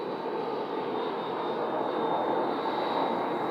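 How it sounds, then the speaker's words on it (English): Aircraft engines drone in a steady, continuous roar overhead at a Scottsdale planespotting spot, a broad even rumble with a faint high whine and no talk. "sounds like I'm hearing two aircraft"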